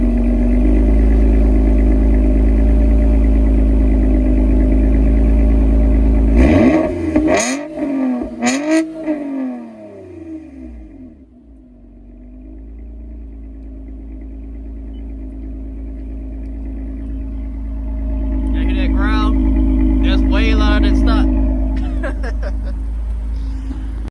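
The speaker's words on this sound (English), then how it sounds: "So I'm gonna give y'all a warm start, and then I'm gonna do a few revs." A 2020 Toyota Camry TRD engine warm-starts with a loud crank and catch, settles into a steady rumbling idle, then revs up in a couple of throaty blips near the end.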